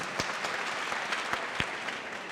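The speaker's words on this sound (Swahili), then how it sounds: "Mnaweza mpigia makofi." An audience claps at a Kenyan national youth dialogue on elections, a moderate continuous patter with a few sharp individual claps that stand out.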